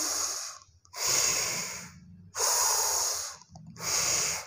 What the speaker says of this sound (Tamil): நல்லா மூச்சு இழுத்து விடுங்க.